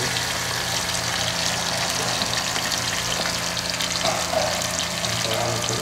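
Sliced onions sizzling in a pan for a soybean and white chickpea curry, a steady close frying hiss with light crackle throughout.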